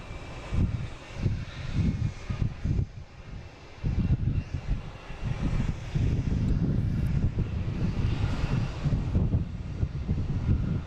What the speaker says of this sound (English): This JetBlue getting out of the way finally.